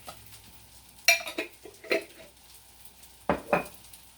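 A spoon stirs a burger mixture with pickle juice in a bowl, giving a few sharp clinks and scrapes against the bowl between quiet pauses.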